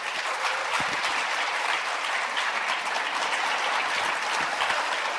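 Sustained applause from an audience at a corporate vision program event welcoming a man to his seat, dense and even clapping throughout with no talk over it.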